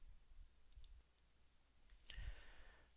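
Faint mouse clicks in a quiet room, two small clusters, the second near the end slightly stronger and followed by a soft rustle.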